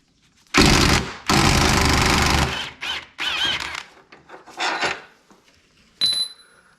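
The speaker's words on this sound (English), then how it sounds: "So all we have to do is just impact it off." Impact wrench removing the front strut mount on a Porsche 911 996, with two long loud rattling bursts followed by several shorter hammering bursts, close and alone.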